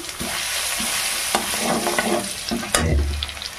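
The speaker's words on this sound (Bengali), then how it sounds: "তেলে দিয়ে দেবো রসুন, থেতো করে রাখা রসুন।" Crushed garlic hits hot oil in a pan and is stirred while cooking potol and potatoes, giving a steady close sizzle with scraping stirs and a louder burst of frying near the end.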